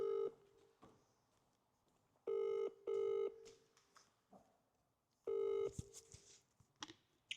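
A ringback tone sounds on a UK phone line while a prize winner is called during a live draw: several clean, steady purring bursts, mostly in close pairs, separated by quiet gaps, with faint room noise in between.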